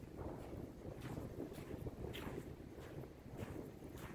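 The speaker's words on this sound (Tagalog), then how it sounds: "Grabe, lakas ng hangin." Strong wind blowing across a sandy beach reef, a continuous roaring buffet against the microphone with gusty surges throughout and no talk.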